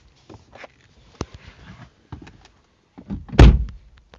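Someone tries a locked car door, with a few faint handle clicks and rattles, then a louder thudding jolt as the door is pulled, close up and without speech.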